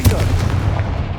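Confringo explosion spell cast in the video game Hogwarts Legacy, a loud booming blast with a sustained low rumble filling the short moment.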